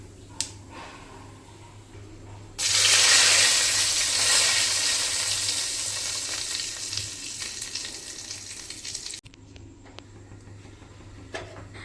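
Cumin seeds, bay leaf and dried chilli hit hot oil with a sudden loud sizzle that crackles steadily for several seconds, then cuts off abruptly, leaving a quiet kitchen hum.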